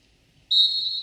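A referee's whistle at a collegiate 141 lb wrestling match, one sharp, sustained blast starting midway and holding to the end, loud and close after near silence.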